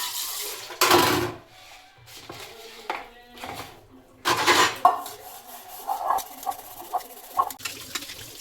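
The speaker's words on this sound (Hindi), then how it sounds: "अभी मैं कर रही हूँ बर्तन साफ" Dishes and utensils being washed by hand, with bursts of clattering pots, pans and cutlery knocking together, loud and close, separated by quieter scrubbing and small clinks.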